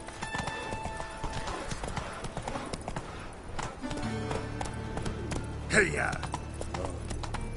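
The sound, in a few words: Roach the horse galloping in The Witcher 3 video game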